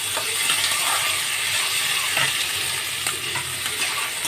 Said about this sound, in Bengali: পেঁয়াজ কাঁচা লঙ্কা কুচিটা আমি দিয়ে দিলাম এর মধ্যে